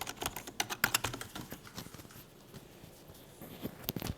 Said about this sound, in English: This is what the keys sound like. Very fake, plasticky keys, like I'm playing with a toy keyboard.